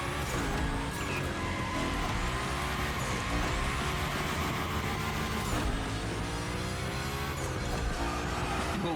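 A car slides through gymkhana drills in the video game The Crew Motorfest, with engine revving up and down continuously and tyres squealing, all loud and close throughout.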